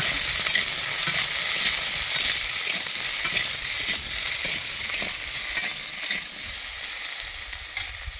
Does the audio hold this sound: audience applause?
no